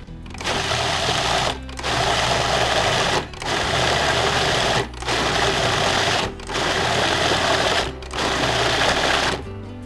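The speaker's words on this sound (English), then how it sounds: "I'm going to puree this for about 30 seconds or so." A food processor purees apples and onions in loud, steady whirring bursts, about six of them, separated by short pauses, with no talking.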